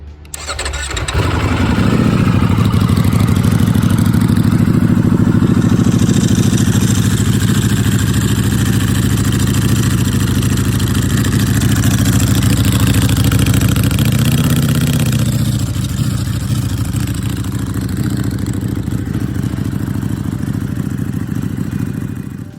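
A 2020 Ducati Superleggera motorcycle engine fires up nearby and settles into a loud, steady idle with a brief blip of revs midway, running alone without talk.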